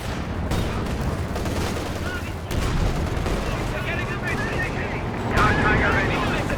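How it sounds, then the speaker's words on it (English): A high-explosive artillery barrage falls on a 17-pounder emplacement in Company of Heroes 2, a steady roar of blasts and rumbling with a heavier impact partway through, under a commentator's voice. "High explosive barrage coming down on top of the 17 pounder"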